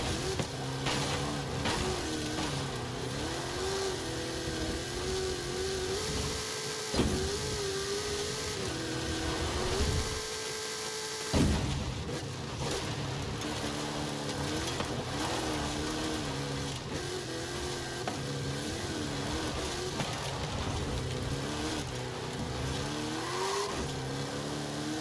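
A Ford Raptor R truck engine in Forza Horizon 5 revs loudly and continuously, climbing and dropping through throttle changes with a brief cut near the middle before pulling hard again, up close and alone without talk.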